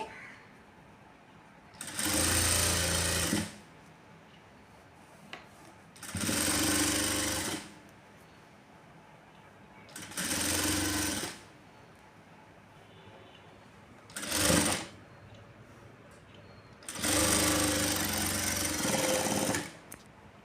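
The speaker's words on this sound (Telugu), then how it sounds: "ఇప్పుడు దీన్ని మొత్తాన్ని ఇలా ఇలా మనకు లైనింగ్ వైపుకు ఇలా తిప్పేసుకొని మనకు దూరం కుట్టు పెట్టుకొని ఇలా కుట్ట అనేది వేసుకోవాలి" Sewing machine stitching the lining of a blouse, running in five separate bursts of a few seconds each with quiet pauses between, close and fairly loud.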